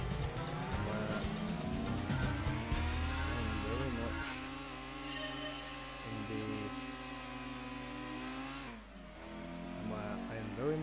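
A non-stock Honda Beat car launches from the start in Gran Turismo 2 at Red Rock Valley, its engine revving and climbing through gears, loud and continuous, with game music and sound effects layered over it.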